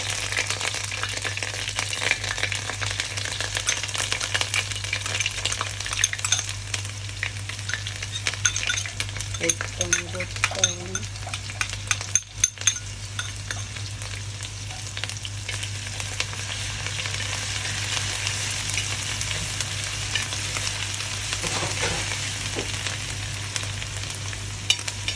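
Crushed garlic and ginger fry in hot oil with a continuous loud close sizzle, a spoon stirring and scraping the pan, and occasional sharp pops and spatters throughout.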